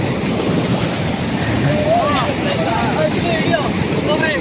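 Floodwater rushes from Manchanabele Dam in a loud, steady roar that fills the whole clip, with faint indistinct voices in the background.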